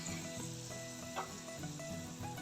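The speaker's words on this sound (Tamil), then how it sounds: "திராட்சையை வறுத்து எடுத்துக்கலாம்" Raisins roast in a pan for Pongal, giving faint, close, continuous sizzling and frying with small pops throughout.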